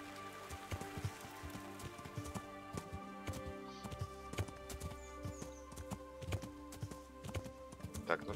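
Horse hooves clip-clop in the medieval video game Kingdom Come: Deliverance, a quiet, steady walking rhythm of hoof knocks over faint ambient game sound.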